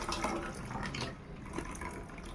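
Hot water poured from a pot into a cooking pot (dekchi) while boiling eggs in a home kitchen, a steady continuous splashing and gurgling pour close by, with no speech.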